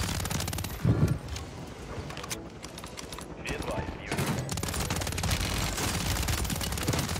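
Rapid SMG gunfire rattles in dense bursts on Rebirth Island in Warzone, nearly continuous shots with short pauses, while voices talk over the action.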